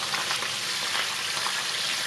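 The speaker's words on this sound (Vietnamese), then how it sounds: "Khi mà vàng rồi mình vớt ra nha, và nhớ là chiên lửa lớn để cho nó nhanh vàng" Pork sausage with lemongrass deep-frying in hot oil over high heat, a steady, dense close sizzle that crackles evenly throughout with no voices.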